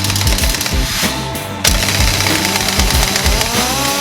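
A 1-inch drive industrial air impact wrench hammers on a 9/16 head grade 8 bolt, loud and close, with rapid rhythmic rattling impacts, a brief pause, then another burst of hammering.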